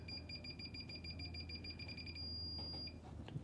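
A Scanreco remote switch in test mode gives a rapid run of short, high electronic beeps, then one longer steady tone. A low hum continues underneath.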